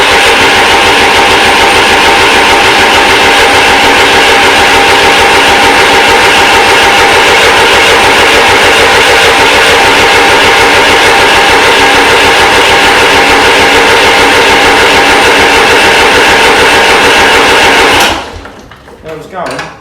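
A classic Italian Lombardini diesel engine runs loud and steady with a dense, continuous clatter after a crank start, holding a constant idle for most of the clip before abruptly cutting off near the end.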